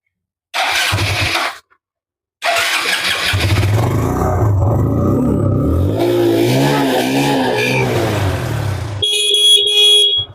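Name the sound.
Hero Glamour motorcycle engine starting and revving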